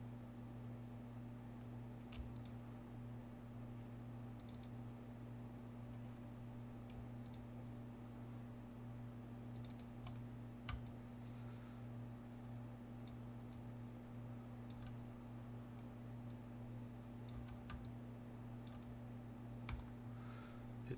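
Computer keyboard keys tapped while modelling a hand in Maya 3D software: sparse, faint, irregular clicks scattered over a steady low electrical hum, with no talking.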